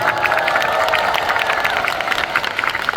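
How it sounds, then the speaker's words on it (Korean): Audience applause at a live music talk show, steady dense clapping from a crowd with some cheering, sustained and fairly loud throughout. "박수 한 번 부탁드립니다."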